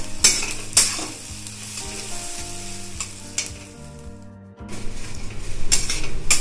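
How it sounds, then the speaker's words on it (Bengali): Onions frying in a pan on a home stove for chili chicken, with turmeric and salt added, sizzle steadily while a spoon scrapes and stirs them in repeated bursts. The sizzle swells louder near the end, and no one speaks. "পেঁয়াজ ভাজা হয়ে গেছে"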